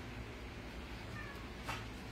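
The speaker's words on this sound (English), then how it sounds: "My cat's wanting to eat." In a home kitchen, a hungry cat meows faintly, giving a short high cry and then a second brief one, quiet against a low room background.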